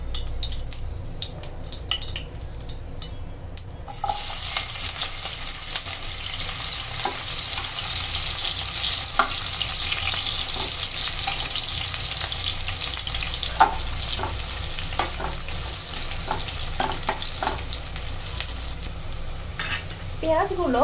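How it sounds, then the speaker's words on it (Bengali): Chopped onions fry in soybean oil in a pan, a loud, continuous close-up sizzle that swells after a quieter opening, with occasional utensil scrapes and clinks as they are stirred. "পেঁয়াজগুলো হালকা আছে হালকা করে ভেজে নেব।"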